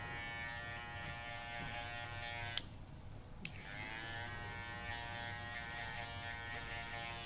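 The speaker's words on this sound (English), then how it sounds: "You usually use a shaver at the end." An electric shaver buzzes steadily at close range during a haircut in a barber class, cutting out for about a second before resuming its constant hum.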